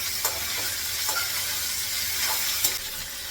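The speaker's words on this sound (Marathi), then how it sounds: "तेलाच्या फोडणीमध्ये आणि मीठ टाकून चांगले परतून घ्यायचे" Boiled potatoes sizzle and sauté in hot oil with salt for a fasting-day potato dish, a steady close frying hiss broken by a few stirring scrapes, no talking.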